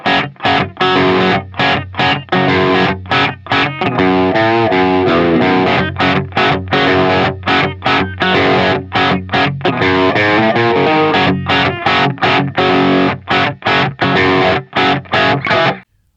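An Epiphone Les Paul Gothic with a Seymour Duncan bridge pickup, played straight into the amp with no pedal, chugs out loud, heavily driven rhythm chords in tight choppy bursts separated by short stops.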